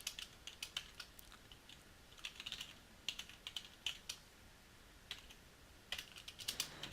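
Java code being typed on a computer keyboard: quiet, close, irregular clusters of key clicks with short pauses between bursts, no voice.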